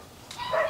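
Short yap from a Bac Ha bobtail dog, a brief bright bark rising toward the end of a sub-second moment, moderately close with no talk over it.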